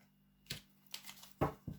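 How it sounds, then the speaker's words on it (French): Oracle cards drawn and handled during a reading, four quick brushing snaps and slides of card stock, close and fairly quiet over a faint hum. "Donc je vais encore tirer 3 cartes"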